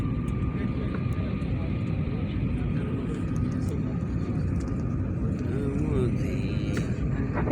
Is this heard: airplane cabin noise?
yes